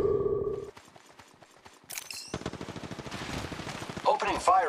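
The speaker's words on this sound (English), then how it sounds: "Opening fire on the enemy." Gunfire in the video game Bully comes as a quick burst of sharp, loud shots mixed with busy game noise and clattering effects, with a few brighter electronic tones near the end.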